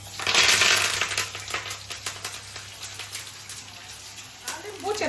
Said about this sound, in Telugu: చిటపట్లు ఆడితేనే మంచిగా ఆ చారుకు అనేది ఆ తాలింపు బాగా పడుతుందండి